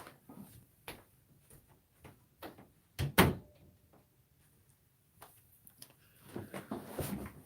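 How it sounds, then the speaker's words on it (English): An indoor door swings shut with a firm clunk, preceded and followed by scattered light knocks and ticks against a quiet room. "I'm just going to shut that door"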